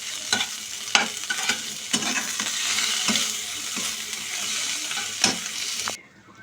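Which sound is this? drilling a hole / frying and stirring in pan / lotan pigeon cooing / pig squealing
frying and stirring in pan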